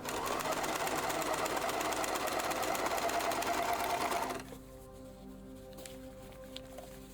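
A serger overlock sewing machine stitches in a fast, even mechanical whir that runs loudly for about four seconds and then stops, leaving a quiet room.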